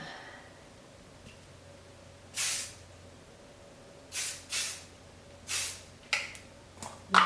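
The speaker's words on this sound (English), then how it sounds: "give it a quick spritz underneath so it holds it up" Hairspray is spritzed underneath a longer pixie cut in a quiet room, making six short, sharp hissing bursts spaced irregularly, with the last two coming in quick succession.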